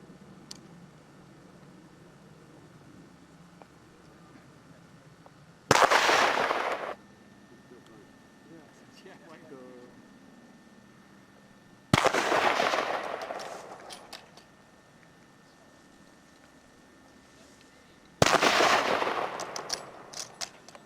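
Rifle shots at a target on a range during a WW2 living history weekend, three loud sharp reports spaced several seconds apart, each echoing briefly, with quiet outdoor background between.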